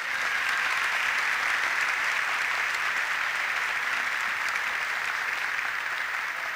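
A crowd gives sustained, even applause for an orchestra conductor at a Turkish folk dance contest, loud and unbroken throughout without pause.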